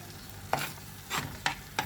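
Banana ladoo mixture with sugar is stirred in a pan, producing a few distinct scraping strokes with soft sizzling between them, close and fairly quiet, with no voices.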